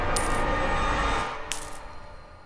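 Loose change jingles briefly at close range, a short metallic clink with another small clatter a moment later, over a low background hum that fades as it goes on.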